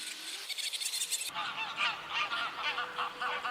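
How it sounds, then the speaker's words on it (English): Waterfowl honking on a park pond in Holland, a few loud goose-like calls repeating across several seconds with no talk. "I noticed many ducks out on the water"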